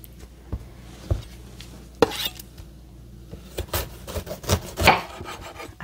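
Roasted bell peppers being peeled by hand in a home kitchen, giving soft wet rubbing and scraping sounds with occasional sharper taps and slaps, close and fairly quiet with no talking.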